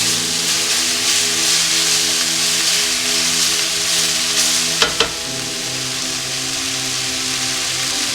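Chicken changezi with two large sliced tomatoes being stirred in a hot pan, a loud, close, continuous sizzle with a couple of sharp utensil scrapes near the end, no voices.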